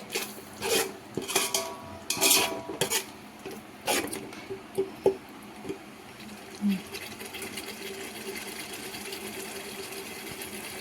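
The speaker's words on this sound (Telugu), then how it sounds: "మసాలా అంతా మంచిగా ఫ్రై చేసుకోవాలండి" Masala for chicken pulao is fried and stirred in a pan, with sharp metallic clinks and scrapes of a utensil against the pan early on, settling into a steady low frying hiss.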